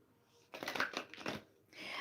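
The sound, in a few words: shuffling tarot cards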